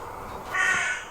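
A crow caws loudly and close by, a single harsh drawn-out call over a quiet background.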